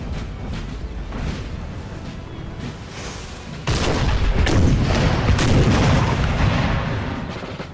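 Artillery fire in the Napoleonic battle game Napoleon Total War, a dense rumbling battlefield barrage of cannon booms and scattered musket shots that swells louder halfway through and keeps rolling.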